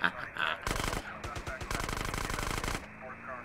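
Rapid automatic gunfire bursts at a police officer in GTA San Andreas, loud and close, with sustained rattling volleys and brief pauses between them.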